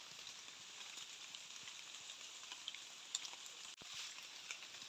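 Steady rain pours down in a forest during a winter storm, a dense, even hiss of drops with scattered nearer splats on leaves and a brief sharp knock near the end, with no voices.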